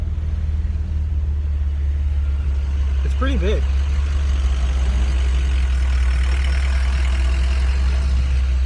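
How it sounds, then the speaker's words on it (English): Steady low rumble of an idling car and nearby trucks in stop-and-go road traffic, heard from inside the vehicle, with a brief whistle-like tone and someone speaking briefly. "I'm in traffic right now."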